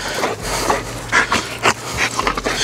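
A dog at a bully breed show pants hard and rapidly in short rhythmic breaths while tugging at a string toy, close to the microphone, with a low steady hum underneath.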